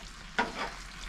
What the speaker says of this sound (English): In goes some cooked pasta. Give it all a stir around.